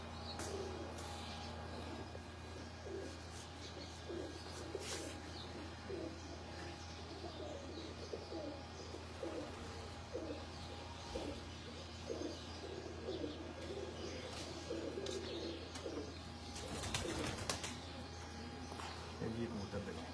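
Pigeons in a breeder's loft coo steadily in a soft repeated rhythm, with several birds overlapping at moderate distance, along with occasional flutters and chirps under a low background hum.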